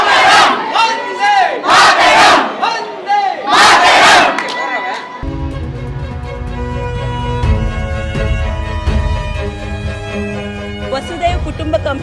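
A stadium crowd cheers and chants loudly in bursts, rising and falling in rhythmic waves, then gives way to steady music with the crowd still audible beneath it.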